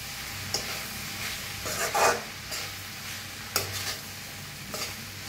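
Shredded cabbage bhaji is stirred and roasted in a pan, with a low frying sizzle broken by several scraping spatula strokes, two of them louder bursts. No one speaks.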